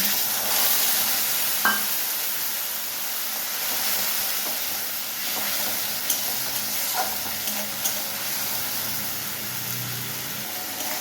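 Ginger paste sizzling in hot oil with a little turmeric, a loud, continuous close frying hiss with a few faint clinks of stirring, no talk.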